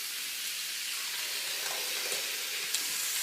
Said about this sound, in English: the onion's frying along nicely